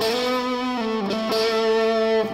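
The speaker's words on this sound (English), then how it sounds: "It's a little bit heavier distortion, a little bit more mids, maybe a little more high end too." Electric guitar through an amp on a heavier distortion setting with more mids and high end, sustained notes ringing with rich overtones and a couple of quick note changes, loud and alone.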